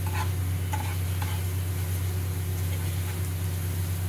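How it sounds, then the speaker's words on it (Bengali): A spoon stirs and mixes masala ingredients for a pomfret fish curry in a pan, with faint scraping strokes and a few light clinks over a steady hiss and background hum. "এটাকে ভালো করে মেশাচ্ছি, এরম করে মেশাবেন সুন্দর করে"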